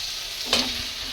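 Pangas fish pieces drop into hot oil over spiced potatoes, setting off a short sizzling burst with a brief stirring scrape, then a steady low frying hiss.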